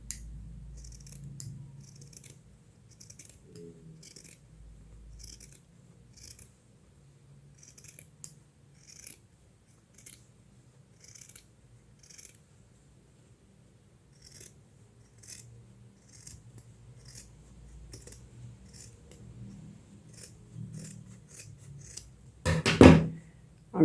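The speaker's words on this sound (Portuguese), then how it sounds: "Tô cortando assim em 2 vezes, porque aqui ficou 4 feltros aí." Scissors cut through four stacked layers of felt while a Frankenstein-themed felt bag is being made: a long run of quiet, crisp snips in an irregular rhythm, close by, ending in a louder thump and rustle.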